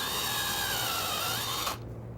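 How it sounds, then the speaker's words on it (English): A power drill with a brad point bit whirs steadily into wood at close range with a high whine, then stops, leaving quiet background noise. "I want to drill down just deep enough that the screw head will disappear below the surface."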